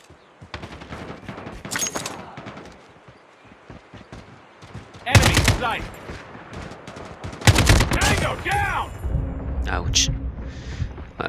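AK-47 automatic gunfire in the mobile game Call of Duty Mobile: loud, sharp bursts of rapid shots in several volleys, with someone talking between and over them.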